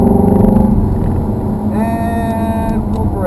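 A Ferrari 430 engine accelerating on a wet track at Hallett: a loud, steady drone that rises in pitch partway through, heard close from inside the car.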